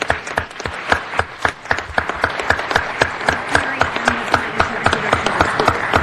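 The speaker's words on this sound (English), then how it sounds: "I hope you'll join me in welcoming him with a round of applause." In a city council chamber, a modest group claps to welcome a guest, the individual hand claps distinct and fairly close in an uneven, steady patter.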